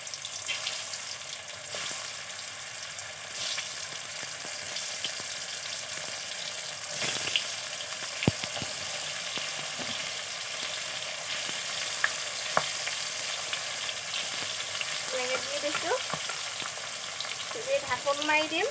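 Pointed gourd (potol) pieces frying in hot mustard oil in a kadai, a steady broadband sizzle throughout with occasional clinks and scrapes, louder crackle toward the end.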